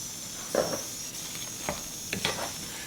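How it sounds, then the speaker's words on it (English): Green pepper tossed into a pan of sizzling sesame chicken, giving soft frying hiss with a few stirring scrapes and clatters of spatula against the pan, fairly quiet and close. "And so now I'm gonna add this green pepper here."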